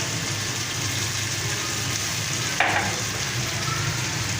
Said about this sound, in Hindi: इसको हम भून लेते हैं